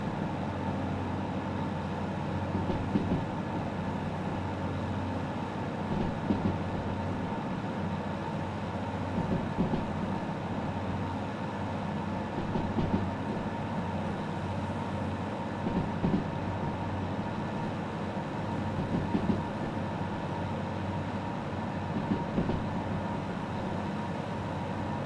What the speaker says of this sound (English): Steam trains are good, they just require a lot more effort to drive.